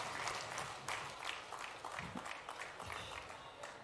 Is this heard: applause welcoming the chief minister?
yes